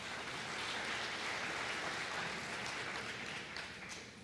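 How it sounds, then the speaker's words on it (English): An audience applauds steadily at a presentation, a dense wash of clapping held at even strength for several seconds before easing slightly at the end. "a round of applause for Anne"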